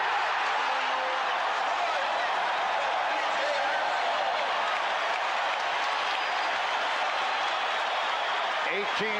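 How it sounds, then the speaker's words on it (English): A packed arena of basketball fans stands and roars for the Chicago Bulls during the 1991 playoffs, a continuous loud cheer with clapping that holds steady from start to finish. "They are standing and cheering the Bulls."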